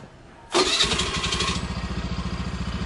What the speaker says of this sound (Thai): เราจะมาสตาร์ทให้ดูเนาะ กดสตาร์ทด้วยกดปุ่ม ปุ่มสตาร์ทสองครั้งนะ กดสองครั้งครั้งที่สองกดค้างไว้นะ